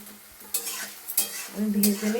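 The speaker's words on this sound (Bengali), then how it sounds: "ঠিক আছে, আমি ভেজে নেই" Rice fried in a pan sizzles steadily while a utensil stirs and scrapes it in a few sharp strokes, close and clear with no talking.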